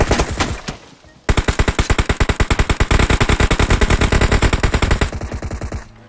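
Automatic gunfire in the mobile battle royale game PUBG Mobile: a long, loud, rapid burst of evenly spaced shots lasting several seconds, preceded by a short flurry of shots, with no talking.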